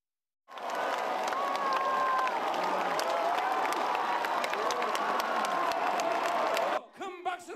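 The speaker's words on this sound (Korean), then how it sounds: "큰 박수로 격려해 주시기 바랍니다" A crowd at a Lee Jae-myung campaign rally breaks into loud, continuous clapping and cheering with scattered whoops, then cuts off sharply into a speaking voice.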